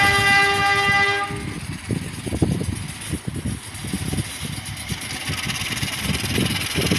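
Compartment-class passenger train in a train simulator game: a sustained horn blast opens, then the engine rumbles and wheels clatter steadily on the rails throughout, loud and close with no talk.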